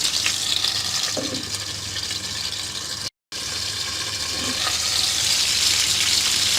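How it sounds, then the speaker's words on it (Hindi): Beef gola kebabs fry in a covered pan over a very low flame, giving a steady, even sizzle and hiss that cuts out for a moment before resuming unchanged. "इसके ऊपर बीफ गोला कबाब रख देंगे फ्राई होने के लिए"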